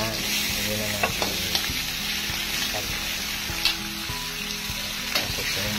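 Chicken sautéing in a pan for a native tamarind chicken soup, with a steady loud sizzle and frequent scraping stirs of the utensil against the pan, close up and without talk.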